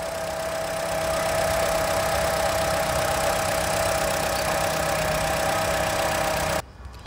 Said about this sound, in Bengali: গাড়িটি ইঞ্জিন চালিত অবস্থায় রয়েছে, আমরা কোনো ধরনের ব্যাড নয়েজ শুনতেছি না।